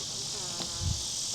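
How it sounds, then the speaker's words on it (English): Bees crowd around a 50-50 sugar-water bee feed, their steady high buzz droning without a break, close and even, with a faint low bump near the end. "there's bees on there trying to get some sugar."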